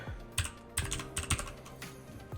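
Keys clatter on a computer keyboard as a command is typed, a short run of quiet, close clicks in uneven rhythm.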